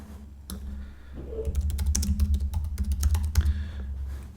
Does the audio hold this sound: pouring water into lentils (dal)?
no